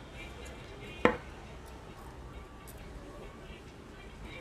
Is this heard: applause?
no